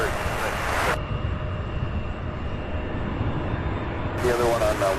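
Jet airliners landing at Louisville's SDF airport, one after another, produce a steady, loud roar that fills the scene throughout, with a broad rushing hiss opening and closing the stretch.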